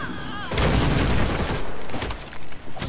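Gunfire in the video game Gotham Knights: a loud burst of rapid shots in a fusillade lasting about two seconds, then a few separate shots, with a shouted voice at the start.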